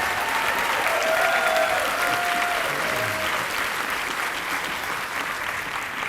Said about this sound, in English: would you please stand and let us give you a round of applause?